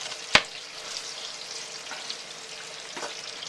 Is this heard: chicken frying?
yes